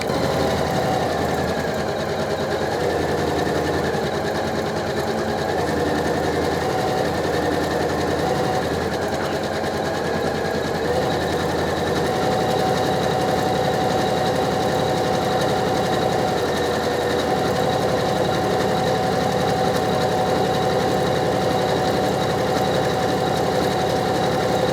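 A Janome Memory Craft 500e sewing machine stitches steadily for the whole stretch, a close, even mechanical whir with a constant motor hum and no talking.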